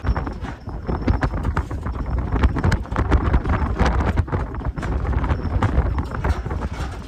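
Horse hooves clip-clop in a steady, close rhythm at Babra, with some wind buffeting the microphone and no one speaking.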